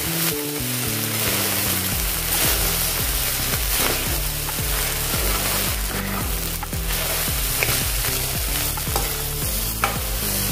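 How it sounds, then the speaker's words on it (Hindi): Fried onions are stirred into spiced rice in a hot pan, a steady loud sizzle beneath repeated scraping strokes of a spoon, continuous and close. "और अपने तले हुए प्याज डालेंगे। अभी मिक्स कर लेंगे सभी को भी।"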